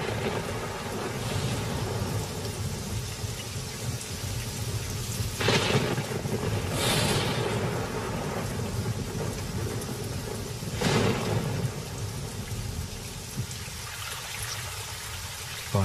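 Thunderstorm with heavy rain over the dry Kalahari, a steady roar of rainfall broken by several loud thunder crashes and rumbles, near and powerful, with no voices.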